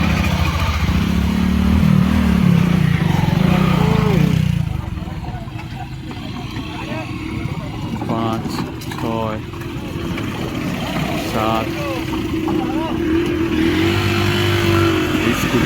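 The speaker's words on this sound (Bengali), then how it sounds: "একটা একটা বাইক পেরোলো" Several motorbikes pass one after another, their engines revving and roaring loud at first, then fading to a softer rumble while people talk nearby.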